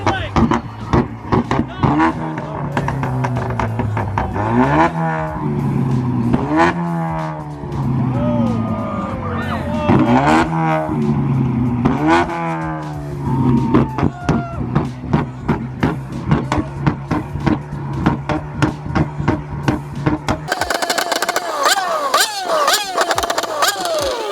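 A Ford Mustang engine at an illegal car meet, strained close to failure, revs hard again and again in rising, screaming sweeps, loud and near. Onlookers' voices mix in, and the sound shifts abruptly toward the end.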